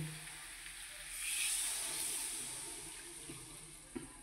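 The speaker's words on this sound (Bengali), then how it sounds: "এবার আমি এতে একটু জল দেবো।" Water is poured from a vessel into a pan of potato and pointed gourd egg curry, a short rushing splash that swells and fades over a few seconds, alone with no talk.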